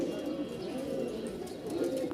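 Giribaaj pigeons, a biscuit-coloured pair, cooing softly and continuously close by, with a few faint chirps mixed in.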